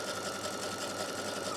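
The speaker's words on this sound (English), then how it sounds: "I'm going to create a basting stitch using 5/8 of an inch seam allowance" Sewing machine running a long basting stitch along a 5/8-inch seam allowance on a slip dress, a steady close hum with even rapid needle chatter, no talking.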